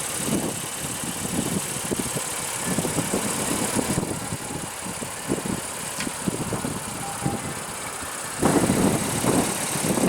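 A 2016 Acura MDX's 3.5-liter V6 idles steadily with a low, even engine hum, close and continuous, with a slight rise in level near the end and no talking.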